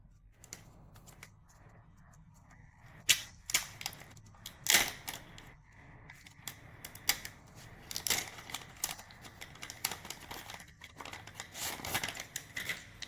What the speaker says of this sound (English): Let's carefully lift it out and slowly peel off the film.